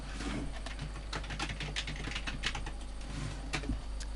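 A computer keyboard is typed on in quick irregular bursts of close, crisp key clicks, entering a console command in the Halo CE map editor Sapien, over a low steady hum.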